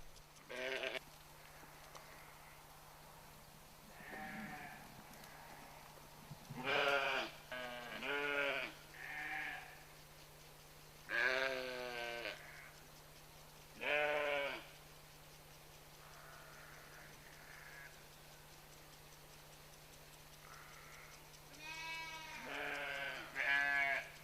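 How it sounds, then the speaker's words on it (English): Nanny goat and her kids bleating on a farm, several wavering calls in short bursts and groups of two or three, some overlapping, fairly close against a low steady hum. "Wherever the nanny goat goes, the kids stay close by."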